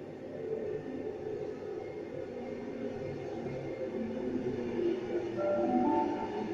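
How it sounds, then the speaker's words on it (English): Sydney train at Epping station, a steady low rumble and rolling hum of the carriages filling the whole stretch, swelling slightly near the end with a faint higher whine. "The train on platform 1 goes to Penrith via Chatswood."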